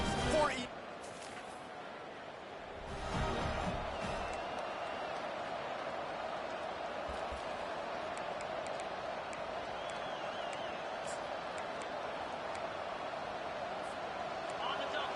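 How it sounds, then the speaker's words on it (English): Steady, dense roar of a stadium crowd cheering at a college football video game, LSU Tigers against Georgia Bulldogs, holding at a constant level throughout with a brief louder swell early on. "They challenge this crowd to bring the energy, and I'd say they're doing that"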